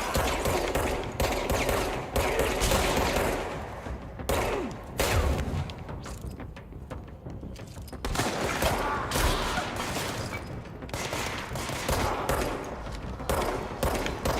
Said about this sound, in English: are you shooting me while I'm busy?